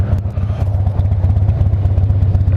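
A Harley motorcycle engine runs close and loud with a steady, throbbing, lumpy pulse and faint mechanical clatter, heard alone without talk.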